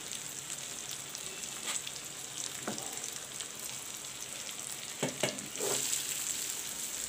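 Chicken sizzles and fries in a pan with chopped tomato and garam masala, a steady hiss with a few stirring scrapes and clacks, close and continuous without talk.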